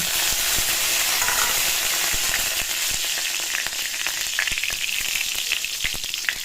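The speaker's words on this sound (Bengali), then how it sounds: "আবার ডবল করে তেল দিয়ে দিয়েছি আর একটা তেজপাতা আর এই যে জিরে যে দিয়ে দিয়েছি" Cumin seeds and a bay leaf frying in a generous amount of hot oil, a continuous close sizzle with scattered crackles and pops that grow more frequent toward the end.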